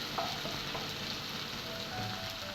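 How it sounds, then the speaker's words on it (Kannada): Ginger garlic paste frying in a pan for egg rice, a soft, steady sizzle with faint stirring scrapes, quiet and close with no talking. "ಇದು ಹಸಿ ವಾಸನೆ ಹೋಗೋ ತನಕ ಹುರ್ಕೊಳ್ಬೇಕು ನೀಟಾಗಿ ಜಿಂಜರ್ ಗಾರ್ಲಿಕ್ ಪೇಸ್ಟನ್ನು."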